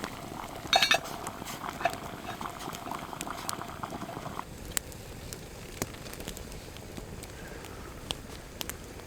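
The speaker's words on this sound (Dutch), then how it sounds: "breng ook dit water aan de kook" Water boiling in a pot with acorns over a campfire, a steady bubbling and hissing simmer running throughout with a few sharper pops and crackles, loudest near the start.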